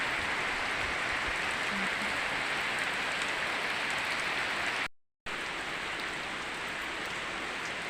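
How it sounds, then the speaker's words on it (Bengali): Steady heavy rain pours down outdoors in Mohonpur in early May, a dense, even hiss of drops on surfaces that holds constant throughout with one brief dropout, and no voices. "বৃষ্টি হচ্ছে।"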